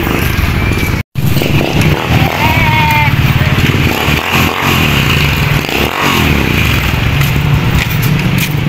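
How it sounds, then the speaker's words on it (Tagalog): A motorcycle engine rumbles close by on a street at night, mixed with traffic clatter and street noise throughout, briefly cutting out near the start. "Motor."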